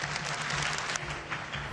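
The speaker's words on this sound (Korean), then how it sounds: "건설 현장에서 성실히 근무하면서 끊임없이 공부를 계속해온 윤희중 씨에게 박수를 보내는 자리입니다." An audience claps steadily at a Korean state award ceremony honoring a construction worker with an Iron Tower Order of Industrial Service Merit, a dense, continuous round of applause with no talk.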